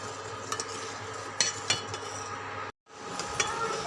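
A spoon stirs payesh, Bengali rice pudding, simmering in a pot, with steady scraping and occasional clinks against the metal over a constant bubbling hiss, broken by one brief silent cut.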